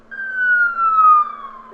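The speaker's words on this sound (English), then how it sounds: "Sounds of sirens follow minutes later." A single wailing police siren glides slowly downward in pitch, steady and fairly clear, heard from some distance with no voices.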